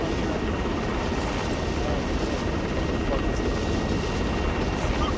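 A helicopter flies in the ArmA 3 game during a PvP assault, with a loud, steady rotor and engine roar throughout. A voice may be faintly present under the roar.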